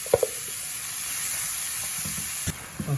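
Onions sauté in a pan, a constant soft sizzle running throughout with a few brief knocks and clinks of a spoon or ladle against the pan, close by and with no talking.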